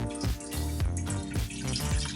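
About one and a half cups of water poured into a cooking pan as a broth for steamed halibut, a steady splashing gurgle with no pauses.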